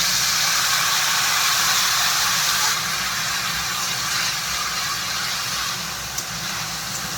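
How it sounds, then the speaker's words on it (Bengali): Water poured into a hot pan of frying pointed gourd (potol) with garlic, giving a steady loud hiss and sizzle that holds throughout, with no talking. "এখন এই জলটা দিয়ে দিচ্ছি।"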